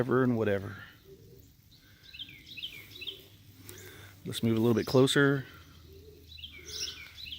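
White homer pigeons in a loft coo softly at low pitch, with scattered high chirps from other birds in the background, while someone talks close by.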